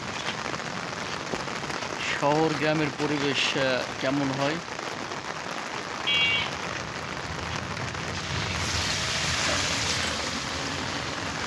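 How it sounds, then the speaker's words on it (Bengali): Sudden midday rain pours over a Bengal village, a steady broad hiss of drops that lasts throughout while someone speaks over it for a few seconds. "আজকে হঠাৎ করেই বৃষ্টি নেমে যায় দুপুরবেলা।"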